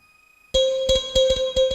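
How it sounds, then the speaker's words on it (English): Kalimba-style synth pad enters after a short near-silence, with a bright plucked tone repeating in quick rhythmic notes over a steady sustained bed, played alone at moderate volume. "So there's a kalimba sound."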